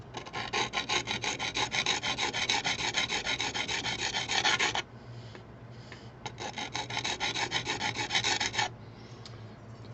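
A small metal part is filed to a point at one end while making a Hamilton watch fourth-wheel pivot, a close, rapid rasping in quick regular strokes that pauses briefly midway, then resumes.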